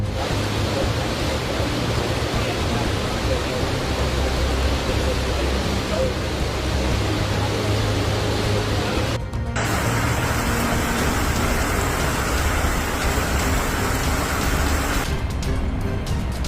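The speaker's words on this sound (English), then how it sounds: "There's nothing else you can do, but look at the water flow in, said Bush." Floodwater flowing in during heavy rain, a loud, continuous broadband rush of water that holds steady throughout.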